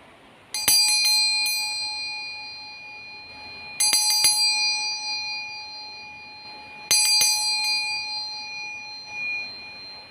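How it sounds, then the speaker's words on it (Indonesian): A bell rings three times with clear, bright strikes, each tone ringing out and fading slowly before the next, spaced about three seconds apart with no talking. "kita akan dimulai dengan lonceng berbunyi"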